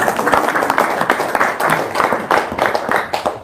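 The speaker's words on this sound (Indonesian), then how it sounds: "Sip, tepuk tangan dulu dong." Audience applause breaks out at a talk-show style Q&A session, a dense burst of hand claps with uneven pulses rising and falling throughout, fairly loud and close.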